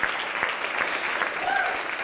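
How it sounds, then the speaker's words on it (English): An audience applauding panelists at a leadership discussion event, a dense steady wash of clapping from a crowd, close and sustained for the whole stretch. "Let's give our panelists a big round of applause."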